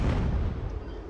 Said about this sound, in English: Cannon might win the day.